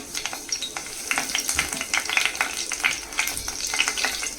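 Curry leaves sizzle in heated oil in a pan while a prawn curry (kolambi) is being cooked. A loud, steady frying hiss comes up close, broken by rapid crackles and spatters, with no one talking.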